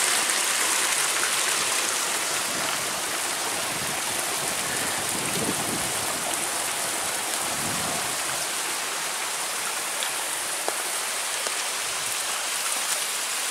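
Clear mountain spring water pours fast at Curug Tarung in Temanggung, Central Java, making a constant broad rushing hiss, close and steady, with faint splashes scattered through it.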